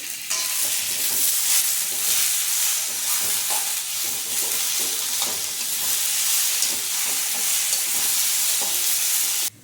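Chopped onions and two medium tomatoes sizzle and fry steadily in a pan for a Marathi sweet corn masala bhaji, a continuous close bright hiss with faint stirring scrapes throughout and no talking.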